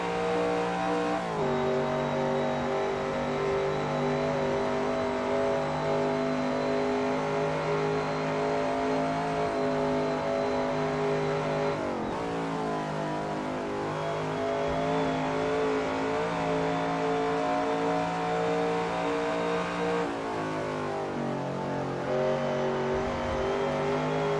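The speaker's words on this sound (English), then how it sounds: "Catching Jose now. I think this is one of the 365 Ferraris." A Ferrari 365 vintage sportscar in Assetto Corsa races at Classic Spa Francorchamps, its engine droning loud and continuous, pitch sweeping up and down through gear changes and throttle lifts across the whole stretch, with other cars in the pack.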